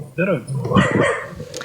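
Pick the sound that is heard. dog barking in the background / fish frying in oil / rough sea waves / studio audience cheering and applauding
dog barking in the background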